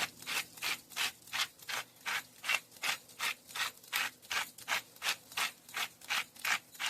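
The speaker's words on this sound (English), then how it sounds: "Then I've got my Italian herb seasoning grinder here," An Italian herb seasoning grinder twisted by hand gives about sixteen rhythmic rasping grinds at an even pace, close and fairly quiet, no talking.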